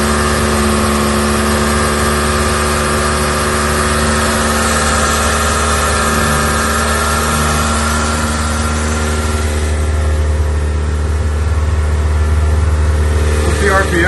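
A Mitsubishi Mirage's 4G92 engine runs without a muffler, a loud steady drone with a raw exhaust note, holding around 2,500 rpm throughout as voices talk faintly underneath.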